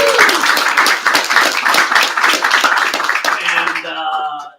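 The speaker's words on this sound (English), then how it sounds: "Give him a round of applause." A small online late-night show audience applauds the co-host, a dense burst of clapping for several seconds that thins out and gives way to other sound near the end.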